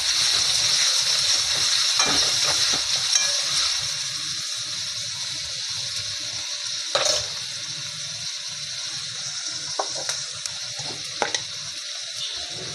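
Cut green chillies fry in a pan with a steady, close sizzle, punctuated by a few sharp crackles and stirring clinks.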